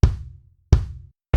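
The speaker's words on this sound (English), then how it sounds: "Now I'm selecting the kick drum." A damped kick drum sample in Logic Pro X for a one drop reggae beat, struck twice alone with a punchy low thump and short decay about 0.7 s apart, a third hit starting at the end.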